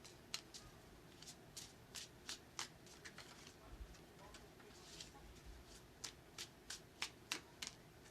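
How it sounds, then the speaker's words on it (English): Tarot cards being shuffled, a run of crisp riffling bursts and soft slaps close by, coming in uneven clusters over faint background hum with no talking. "now I'm going to do a little bit more shuffling, so we can do Brooke."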